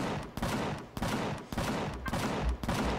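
Automated turrets in the space survival game Empyrion fire in steady, dense bursts. The gunfire is loud and near, breaking briefly about every half second, with no speech over it.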